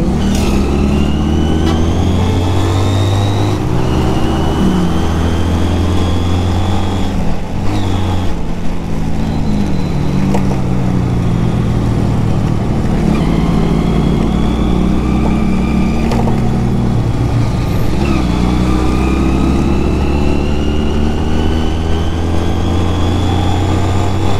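A Honda CD 200 Roadmaster classic motorcycle rides along, its engine droning steadily with rising and falling revs throughout, loud and close with continuous road and wind noise.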